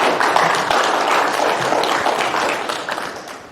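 Audience at a community meeting in a church breaking into steady, dense applause, many hands clapping together at an even loudness that slowly tapers toward the end.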